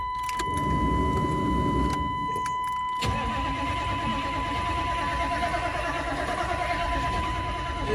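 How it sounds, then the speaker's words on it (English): A 6.5 turbo diesel truck engine cranks without starting, a continuous starter churn that follows a few sharp clicks and knocks at the beginning, with a steady tone running underneath. "It's just cranking and does not start."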